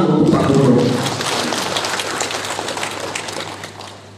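Audience applause for the governor at a regional development planning meeting in Sambas, a dense, steady crowd clapping that starts loud and slowly tapers over a few seconds, with no speech over it.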